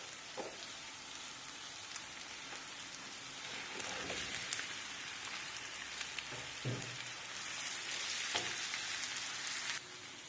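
Teasel gourd (kakrol) frying with onions in a pan over low heat, a steady broadband sizzle with a few scattered utensil clicks and stirring knocks, no voices.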